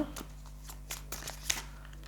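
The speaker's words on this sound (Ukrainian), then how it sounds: "О, аж дві карти я дістала, нічого собі." Soft papery shuffling of cards in short, scattered bursts over a low steady hum, quiet and close, with no talking.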